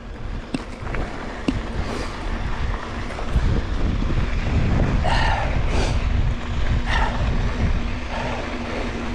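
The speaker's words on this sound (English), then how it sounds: "With the way it's so windy right now" Strong wind in the Moab desert roars and buffets the microphone continuously, a rough rumbling noise that rises and falls with gusts.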